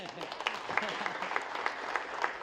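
An audience claps for the chairperson at an Ethiopian Easter celebration in South Africa. The applause is steady and moderately loud, with a speaking voice running underneath it.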